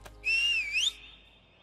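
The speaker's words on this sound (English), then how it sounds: "I'll try whistling." A single clear whistle, rising and dipping in pitch before sliding up and fading, heard alone in a quiet space.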